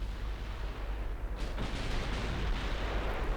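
A destroyer struck by a torpedo in the naval warfare game Ultimate Admiral Dreadnoughts: a low rumbling boom swells in about halfway through, with a sustained roar over steady deep background noise.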